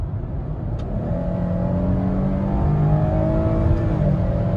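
A 3.6-litre engine in a 2021 Chevrolet Blazer 3LT AWD rises in pitch on a kick-down as it accelerates hard, a steady climbing drone under road and wind noise from inside the cabin.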